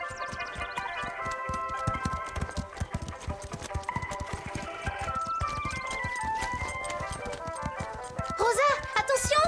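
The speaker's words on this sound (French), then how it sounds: "Nos chevaux vont devoir marcher au-dessus de ces ficelles." Horses in the animated Horseland series walk with rapid, regular clip-clopping hooves that run through the whole stretch, mixed with a bright musical score and rising tones near the end.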